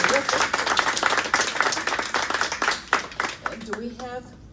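An audience applauds after a poetry reading with close, lively clapping that thins out toward the end as a voice begins speaking over the last claps.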